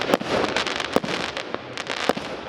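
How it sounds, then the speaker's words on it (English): Fireworks bursting in a front yard during a Christmas celebration in the Dominican Republic: a string of sharp, loud bangs and crackling pops repeats irregularly over about two and a half seconds, close by, with no talk. "fireworks erupt in the front yard"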